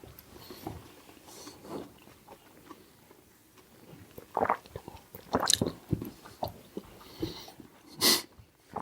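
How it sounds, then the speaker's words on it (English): Close, crunchy chewing of pickled silver skin onions served in a Gibson martini, with irregular wet bites and crunches growing louder midway, soft breathing in between and no talk. "maybe now when we chew one of these"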